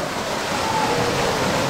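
A steady, full roar of a cold waterfall in Puerto Rico pouring onto rocks, close and continuous with no breaks, filling the whole moment.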